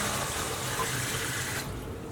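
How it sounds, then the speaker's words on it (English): Running tap water pours steadily into a small saucepan of soaked yellow split peas, a close, continuous splashing rush that cuts off near the end. "And we just want to top that up with water"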